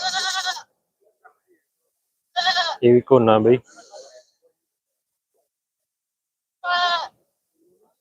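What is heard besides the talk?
goats bleating at livestock fair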